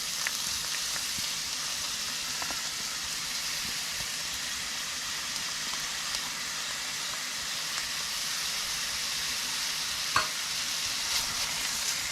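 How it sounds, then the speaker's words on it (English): Onion and garlic fry in a hot pan with a steady, close hissing sizzle throughout, with a few light scrapes and taps as they are stirred. "once your pan is nice and hot, go ahead and start adding the onion and the garlic"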